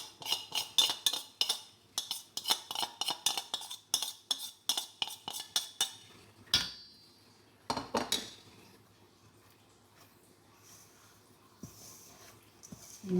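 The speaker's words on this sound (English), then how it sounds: "I'm using here the spatula and gently fold in the white whole wheat flour and oats grated carrots" A spatula in a bowl folds white whole wheat flour, oats and grated carrots into carrot cake muffin batter, making a close, rhythmic run of clinking scrapes, then a couple of louder knocks before softer stirring sounds.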